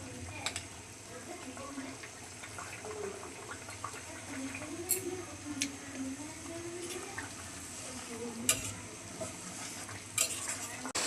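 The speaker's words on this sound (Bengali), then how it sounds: "ঝোল ফুটে গেছে, মাছগুলো দিয়ে দিচ্ছি।" Rohu fish pieces sliding into a boiling, salted curry broth, giving a steady low bubbling simmer with light stirring and occasional soft clinks, under a faint talking voice.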